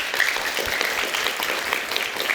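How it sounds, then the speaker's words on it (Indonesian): Audience applause at an Indonesian televised talk show about a murder case, a steady dense wash of clapping sustained throughout with no voices over it. "Kita berikan tepuk tangan untuk Liga Akbar."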